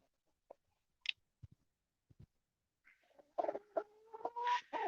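Chickens cluck close by in a quiet farmyard, starting with a few scattered pecks and soft calls, then building into a louder run of clucking toward the end.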